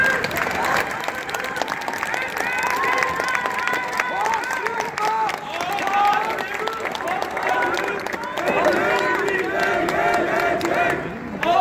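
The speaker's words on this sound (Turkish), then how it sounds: "Beyaz güvercinleri alkışlarımızla uğurluyoruz" At an İzmir square rally commemorating Hrant Dink, a large outdoor crowd applauds continuously to send off white doves, with shouts and a voice over a loudspeaker mixed into the clapping.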